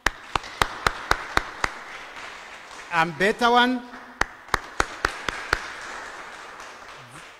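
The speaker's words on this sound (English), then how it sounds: "Can we give them an applause?" Audience applause at a national cohesion and integration conference, heard as sharp separate claps in a steady rhythm at moderate distance. A short spoken remark breaks in midway, and the clapping resumes after it.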